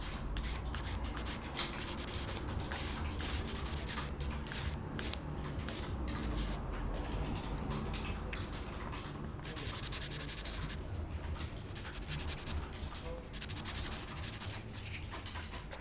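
Fine abrasive sanding on a Tamiya 1/48 F-4B Phantom plastic model kit, close and continuous rhythmic rubbing strokes throughout with no talk.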